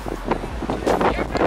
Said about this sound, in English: But here's the windy beach today.